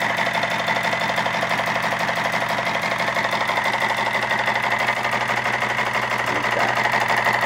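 Small hot-air engine heated by an oil lamp running steadily, a fast continuous mechanical chatter and hum, close and even throughout, with no talk.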